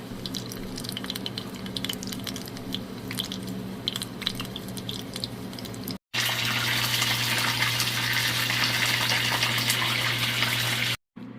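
Battered white mushrooms deep fry in hot oil with a steady, loud, dense sizzle and crackle, broken by two brief cuts. A vacuum cleaner drones in the background.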